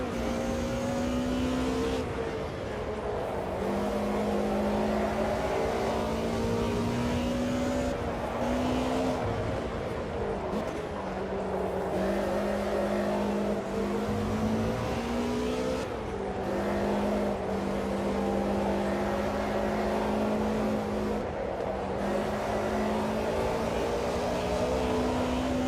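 DTM race cars in a racing video game at the Estoril circuit roar continuously, with engines revving up and down through gear changes as several cars run close together in a pack.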